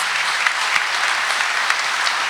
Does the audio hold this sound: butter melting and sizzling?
no